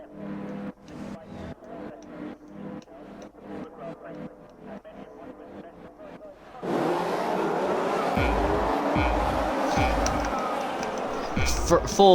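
F1 cars launch off the grid at the race start in the F1 2021 video game, Italy round: loud engine roar swells suddenly after a stretch of sparse ticking, with repeated low surges over a dense, sustained drone.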